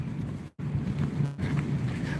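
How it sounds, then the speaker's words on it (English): Strong outdoor wind buffeting a microphone in a steady low rumbling roar, with one brief dropout early on, loud and continuous with no voices. "It's a little windy today, so hopefully y'all can hear me clearly"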